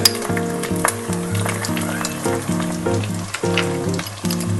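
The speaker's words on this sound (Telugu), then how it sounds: "ఆయిల్లో ఎగ్స్ వేసాం కదా" Eggs seasoned with salt and pepper sizzle in hot oil in a pan for egg fried rice, a steady crackling fry running under prominent background music.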